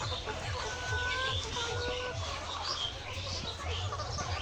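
Bovans White layer hens cluck continuously on a poultry farm, a dense overlapping chorus of many birds at moderate distance with occasional sharper calls.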